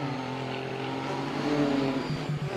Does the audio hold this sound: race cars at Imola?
yes